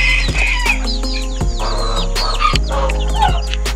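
Chickens and small chicks in a farmyard flock cluck and peep continuously, with high chirps layered over lower clucks and an occasional rooster-like call, close and fairly loud with no talking.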